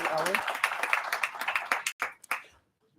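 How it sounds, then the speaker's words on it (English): A short burst of applause from a crowd at a Board of Education business meeting, scattered claps fading quickly to a few final ones and then silence. "Let's give her a big round of applause."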